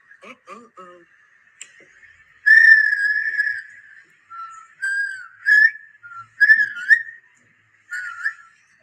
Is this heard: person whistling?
yes